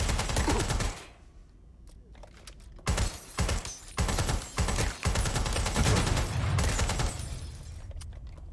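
Bursts of automatic gunfire in the game Watch Dogs: Legion, loud and rapid with short pauses between volleys, alongside a few sharper single cracks.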